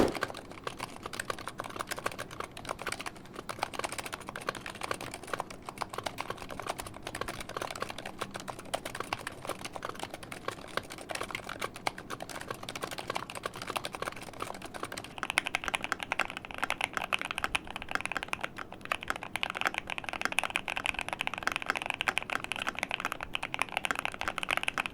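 Steady typing on a Razer Huntsman V2 TKL keyboard with muted optical switches, a continuous run of soft, fairly quiet clacks at a brisk, uneven pace with no voices.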